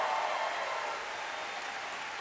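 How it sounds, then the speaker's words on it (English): A crowd at a 10-year anniversary concert claps and cheers in a steady, dense wash of applause. The sound stays broad and fairly loud throughout, with no clear voice above it. "So Ben, Matt, and Adam, can everybody please make a huge round of applause for them?"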